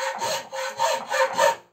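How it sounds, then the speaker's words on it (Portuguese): A hand bow saw cutting through wood in four steady back-and-forth strokes, each a raspy close-up rasp with brief pauses between, ending as the blade stops. "vamos ver ele serrando para ver como é que é"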